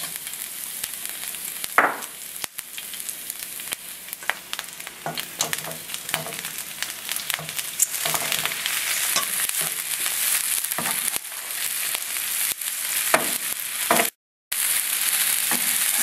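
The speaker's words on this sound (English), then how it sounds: "Stir fry the broccoli for 3 minutes." Broccoli stir-frying for a beef and broccoli dish, a steady bright sizzle in the pan broken by repeated scraping and stirring clicks, close and continuous with no talking.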